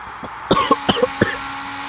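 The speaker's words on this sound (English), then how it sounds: "Oh, sorry about the cough there." A commentator coughs several times during F1 game race commentary: four or five sharp, close bursts packed into under a second, with no speech around them.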